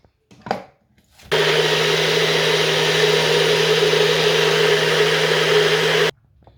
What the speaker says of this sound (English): Now I'm going to add this to my carotene juice and blend.